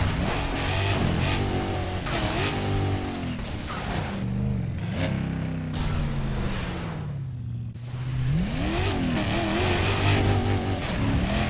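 A car in Burnout Paradise boosting and drifting, the engine loud and close as it revs, rising and falling through gear changes and sustained high-pitched whines, with a brief dip in the middle before it roars back.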